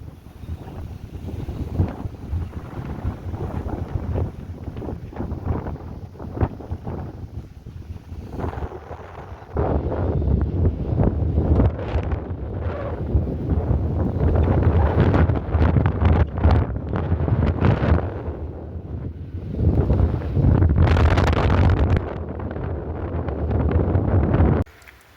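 Strong wind blows across an open farm field, a rough roar buffeting the microphone that grows louder and gustier midway and holds before cutting off.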